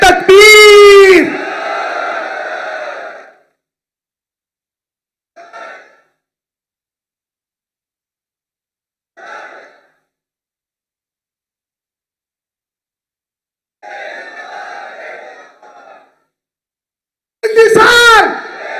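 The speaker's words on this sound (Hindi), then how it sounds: "कराची वालों, क्या आप डॉक्टर जाकिर नाइक साहब को खड़े होकर बताना चाहोगे कि आप इनसे कितनी मोहब्बत करते हो? नारे तकबीर" At a large public talk in Karachi, a crowd chants a slogan back in answer to a leader's loud shouted call. The call opens and closes the stretch, with several shorter, more distant crowd responses between, each separated by silence.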